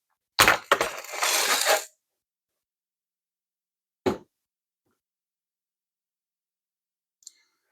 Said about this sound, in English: was the sound of me throwing the screws that I took out of here all over the workbench